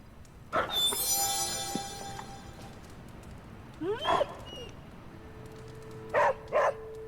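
A dog in the Marvel's Midnight Suns video game gives a few short barks and yips, spaced apart and fairly quiet, against a soft game background with faint chimes.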